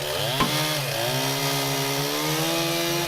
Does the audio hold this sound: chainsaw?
yes